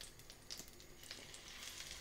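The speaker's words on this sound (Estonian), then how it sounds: "Kui või on sulanud ja kana on soolatud, siis pane kana pannile praadima." Chicken frying skin-side down in melted butter in a pan, a faint steady sizzle with scattered small pops and crackles through two seconds.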